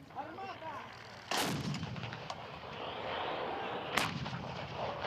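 Two sharp, loud blasts from Msta-B towed howitzers during live-fire training exercises in Kyiv region, several seconds apart, each followed by a long rumbling echo rolling across open ground.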